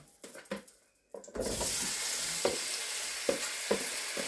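Oil-coated vegetables hit a hot pan for a vegetarian teriyaki stir-fry, bursting into a loud, continuous sizzle after a few soft handling knocks, with occasional spatula taps and scrapes over the steady hiss.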